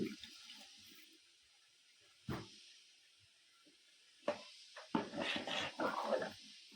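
Hot water poured into a paneer and green pea curry being cooked in bulk for about 100 people; quiet, short splashing bursts that grow busier toward the end.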